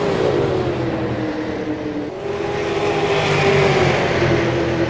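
Stock cars racing on the oval at Iowa during a night-time All-Star bump-and-run race, a steady loud roar of several engines holding high revs, with a pitch shift as cars sweep past.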